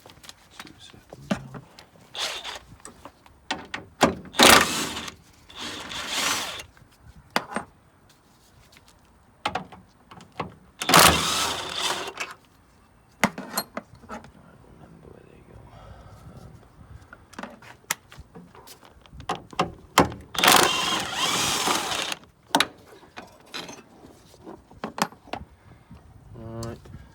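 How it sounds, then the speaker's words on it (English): Bolts are removed from the engine mounts of a Mini being built for track use, with bursts of ratcheting and metallic tool clatter separated by quiet pauses, close by and intermittent. "So I'll just take these 3 bolts out quickly."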